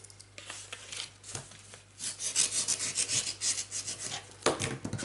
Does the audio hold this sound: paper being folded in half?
yes